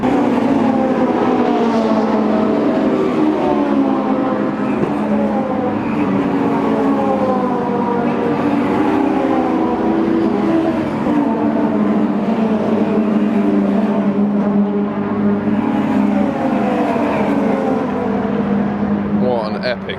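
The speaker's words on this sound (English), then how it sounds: "just a load of K20s screaming around the track" Race cars with Honda K20 engines scream continuously at high revs around Brands Hatch circuit, overlapping whines rising and falling as cars pass, loud and sustained with echoing reflections.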